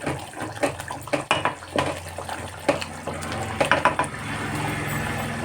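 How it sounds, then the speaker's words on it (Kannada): Water pours into a pan of bubbling okra gojju in short splashing bursts, close and clear, ending in a steadier trickling flow. "ಈ ಟೈಮಲ್ಲಿ ನಾವು ನಮಗೆ ಎಷ್ಟು ಬೇಕು ಅಂತ ಸ್ವಲ್ಪ ನಾವು ನೀರನ್ನು ಹಾಕೊಂಡ್ಬಿಡ್ಬೇಕು"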